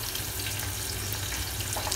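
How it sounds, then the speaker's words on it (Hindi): Onions fry in a pan until lightly browned for Mumbai-style misal pav, giving a steady, close sizzle and crackle that carries on throughout without talk. "प्याज जब तक हमारा थोड़ा सा हल्का सा ब्राउन नहीं हो जाता तब तक इसको हमको पकाना है।"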